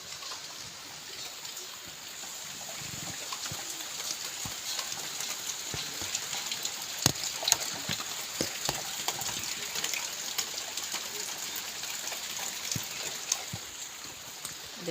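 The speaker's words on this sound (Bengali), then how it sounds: "দেখাচ্ছে খুব বৃষ্টি হচ্ছে।" Heavy rain pours steadily, a dense continuous hiss with scattered drips and splats, close and even throughout.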